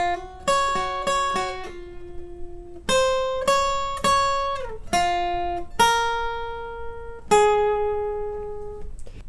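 An acoustic guitar plays a riff alone, with plucked single notes and short figures ringing out and decaying between attacks at a relaxed pace.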